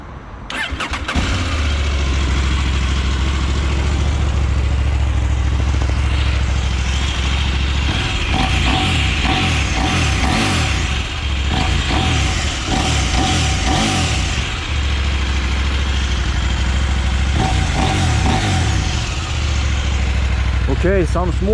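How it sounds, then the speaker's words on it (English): Adventure motorcycles, a Yamaha Tenere T700 and a KTM 790 Adventure R, start up and idle close by with a few blips of revving, a loud steady engine note with people talking nearby. "we should do a sound check immediately of these bikes, how the engine sounds compared to each other"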